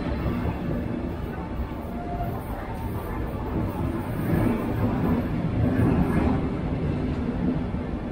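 A train rolling past at a German station on a route toward Bremen, a continuous rumble of wheels and carriages heard close by, swelling slightly in the middle, with faint voices mixed in.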